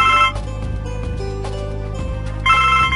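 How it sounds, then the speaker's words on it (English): A telephone rings in the Blackwell Legacy adventure game, with a loud, steady electronic ringtone that pulses in repeated bursts over a music bed and no talk. "The phone!"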